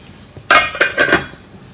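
A metal lid goes onto a pan of fish moley, making a few quick clattering clinks close by after a quiet gentle simmer, with no talking.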